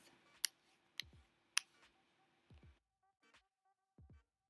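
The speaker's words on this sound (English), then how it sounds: "I'm cutting off the ear area with some small scissors." Small scissors snip through the ear area of a wig cap: several crisp, close snips spaced about half a second apart, each with a soft rustle of material, in otherwise near silence.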